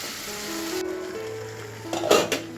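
Oil sizzles in a pan as ingredients fry before chicken goes in, a steady crackle that ends with a brief clatter of utensil against the pan.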